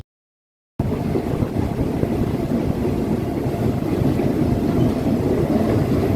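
Ordinary train No. 283 nearing the Suan Nong Nooch stop: after a brief silence, a steady low rumble and rolling drone start abruptly and continue at an even, fairly loud level with no talk.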